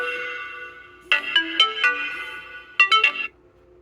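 Incoming-call ringtone from a military-style sports smartwatch with LED light, a steady electronic tone followed by two bursts of bright, chirpy melodic notes, close and clear with no talking.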